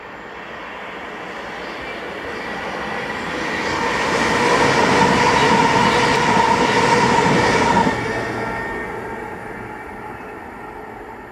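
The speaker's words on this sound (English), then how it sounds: "this is 2J54, the 1750 ScotRail service to Edinburgh from Glasgow Queen Street" ScotRail passenger service from Glasgow Queen Street to Edinburgh passing through a station, a steady rumble of wheels on rails swelling to a loud peak as it goes by, then easing off, with no talk.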